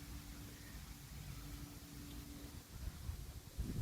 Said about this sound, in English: That wind feels good.